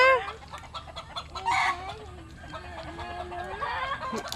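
A chicken clucks repeatedly on a small farm, the close, loud calls coming in short bursts against a quiet outdoor background.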